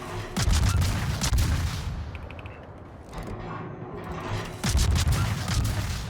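World of Warships naval battle: a quadruple gun turret fires in heavy booming salvos, one at the start and another near the end, with rolling rumble and mechanical clatter between them.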